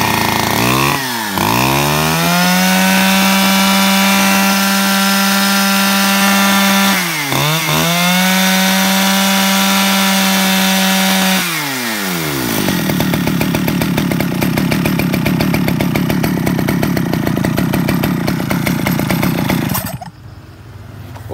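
A 41cc chainsaw engine runs loud and close during a test. It revs up hard a few times, drops to a rough idle, then cuts off at the end, with no talking over it.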